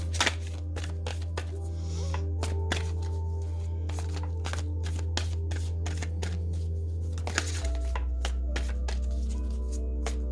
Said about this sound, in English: So pulling a few more cards.